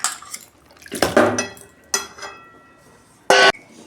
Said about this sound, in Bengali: মাংসটা দিয়ে দিচ্ছি আমি।